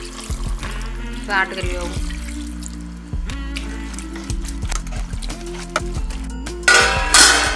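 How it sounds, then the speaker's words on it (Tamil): Water is poured into mutton curry cooking in a pot, making a close splashing pour near the end. It comes over a steady cooking background, with someone speaking. "ஆட்டுக்கறி வேகணும், கொஞ்சம் தண்ணி ஊற்றிக்கலாம் தேவையான அளவு."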